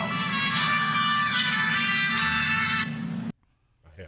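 A phone's ringtone playing a song goes off in a courtroom during a trial. The tune plays loud and continuous for about three seconds, then cuts off abruptly, followed by a faint, brief sound.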